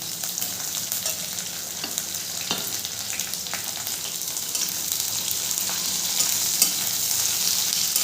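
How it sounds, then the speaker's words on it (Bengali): Chopped onion and garlic frying in hot oil for a mashed pointed gourd dish, a steady close sizzle and crackle with occasional scraping of a spatula, no talking. "পেঁয়াজটাকেও খুব ভালো করে ভেজে নেব।"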